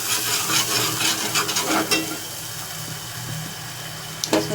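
A garlic-onion paste with turmeric, chili and coriander frying in a pan for an egg dish, a steady close sizzle with stirring scrapes that fades slightly toward the end, and no talking.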